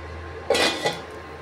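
A metal lid set onto a cooking pan while paneer masala is being fried, two quick close clanks in succession, then quiet.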